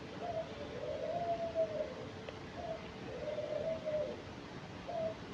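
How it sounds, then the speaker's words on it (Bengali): Pet doves (ghughu) coo in soft, drawn-out repeated calls, several phrases spaced across a few seconds against a quiet indoor background. "আমি ঘুঘু পাখি পালি, এগুলি ডাকতেছে"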